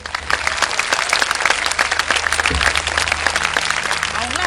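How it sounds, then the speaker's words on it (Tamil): An audience gives a round of clapping for kindergarten teachers, many hands applauding loudly and continuously, with faint crowd murmur under the dense claps. "இந்த எல்கேஜி யூகேஜி ப்ரீ கேஜிக்கு எடுக்கிற மிஸ்ஸுகளுக்கு ஒரு கைத்தட்டு கொடுங்களேன்"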